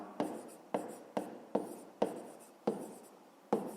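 Pen writing by hand in a notebook while solving a fifth-grade math exercise, heard as a series of seven crisp scratchy strokes at a fairly steady pace. The strokes are close and quiet, and nobody talks.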